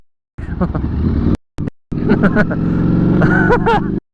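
A two-wheel motorcycle runs along backroads with a close, steady engine drone, cutting out briefly near one and a half seconds before resuming; a rider talks and exclaims over it.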